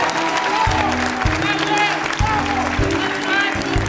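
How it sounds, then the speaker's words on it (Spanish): Studio audience applauding a singer at a televised talent-show gala with an orchestra and choir, a steady wash of clapping running under voices and faint music for several seconds. "recibe este aplauso"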